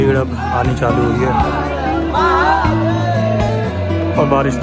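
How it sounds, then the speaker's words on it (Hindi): Crowd gathering at the black-stone Trimbakeshwar Shiva temple in Nashik, Maharashtra, on a rainy day: a dense, steady hubbub of many voices close around, with talk and chanting-like tones layered through the murmur. "भीड़ अब आनी चालू हुई है"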